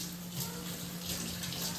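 Tap water runs in a steady, close, hissing stream in a home kitchen, with no talk over it.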